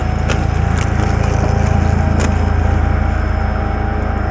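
A Lymow One robotic lawn mower drives down a steep slope and turns, slipping and braking, with a loud, constant low motor rumble and a few faint clicks and rattles over the top.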